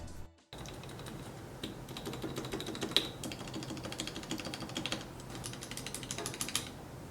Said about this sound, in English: Here's an initial sound test of the stabs.